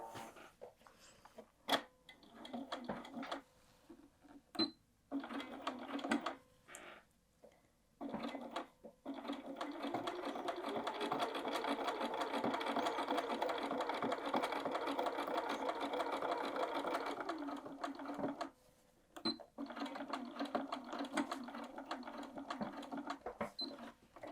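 A sewing machine run slowly by hand-wheel into a corner while assembling a bag's main body, giving a steady mechanical whirring and clatter, broken by a few short pauses and stops, close by and alone.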